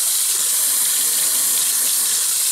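Hot water pours from a kitchen tap into a measuring cup as a steady, close, unbroken rushing hiss with no pauses.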